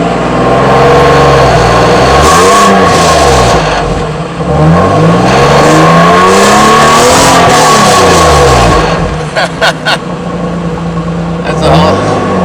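A Suzuki Grand Vitara V6 with a free-flow exhaust conversion revs loudly and close up, with several rising and falling sweeps. A short run of sharp blips comes near the end.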